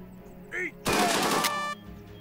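Gunfire in a WW2 turn-based tactics video game: one loud, dense burst of shots lasting about a second, with a brief softer game sound just before it.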